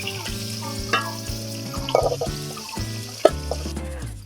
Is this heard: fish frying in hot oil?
yes